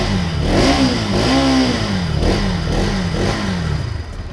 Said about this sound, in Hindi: अंडर बैली एग्जॉस्ट है, इनिशियल में कुछ ऐसा साउंड आता है